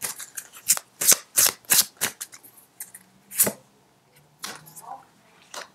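Tarot cards being shuffled by hand, a series of crisp riffling bursts in an uneven rhythm with brief pauses between, close and moderately loud, with no voices over them.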